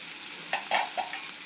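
Frying for an egg kosha gravy gives a soft, even sizzle broken by a few short scraping stirs of a utensil in the pan, and nobody talks.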